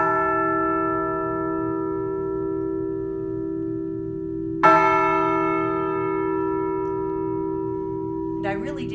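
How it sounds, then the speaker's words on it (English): A replica of the Liberty Bell rings out as a rope looped around its clapper is pulled, first a long humming toll that decays slowly, then a second fresh strike ringing over it, with a brief third touch at the end. "I just took the loop around the clapper of the bell, and I pull."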